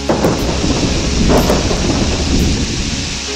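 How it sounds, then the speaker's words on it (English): Loud thunder rumbles through steady heavy rain, with a few deeper booms rolling under the constant downpour. "I hear thunder, I hear thunder."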